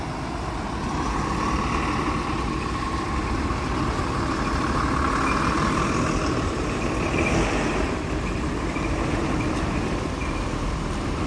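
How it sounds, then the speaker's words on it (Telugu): An ultra deluxe bus on the Rajam–Palakonda route idles at Dwaraka bus stand in Visakhapatnam, a steady low diesel rumble with constant mechanical noise, close and sustained, under general bus-station din without voices. "Rajam Palakonda ultra deluxe bus."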